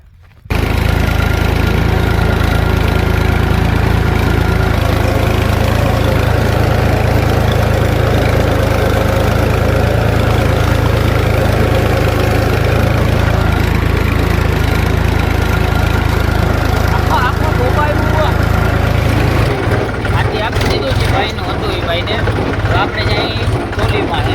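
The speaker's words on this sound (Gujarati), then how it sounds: "આમ ટ્રેક્ટર જો હાલે છે ને અહીંયા." A tractor engine runs steadily on a farm field, a loud continuous low rumble throughout, changing to a rougher, choppier idle near the end.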